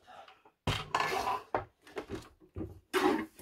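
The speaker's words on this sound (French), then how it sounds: "Donc je vais couper celle-ci." Card stock for a birthday card is being cut, giving several sharp, close bursts of scraping and rustling broken by short pauses.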